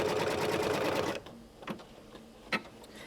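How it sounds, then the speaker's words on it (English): A sewing machine runs in a fast, steady, close stitching burst as it outlines a handbag onto stabilizer, then stops, followed by a few soft clicks and handling noises. "Now we'll stitch an outline holding the bag itself to the stabilizer and also creating a placement guide for my pre-cut applique."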